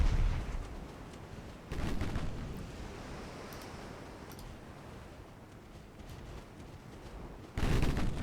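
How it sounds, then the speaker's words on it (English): A torpedo launches in a naval warfare game set in a Korean campaign, heard as a loud, low booming burst at the start and again near the end, with a fainter thud in between over a steady rumbling background. "Oh, she fired her torp."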